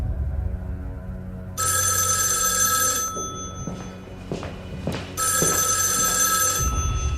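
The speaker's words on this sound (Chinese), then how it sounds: "应该是行长来的电话" A telephone bell rings loudly in two long, shrill bursts separated by a pause, with dull thumps and knocks in between.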